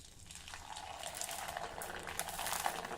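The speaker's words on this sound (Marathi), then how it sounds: "आणखी एक पापड तळून दाखवते" Sabudana (tapioca pearl) papad frying in hot oil, a steady bubbling sizzle that swells slightly louder toward the end, close up with no voices.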